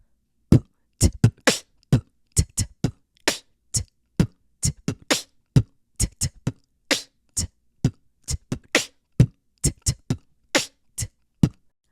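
A solo beatboxed drum beat, a voice imitating kick, snare and hi-hat in a quick, steady rhythm of sharp percussive bursts, close and clear.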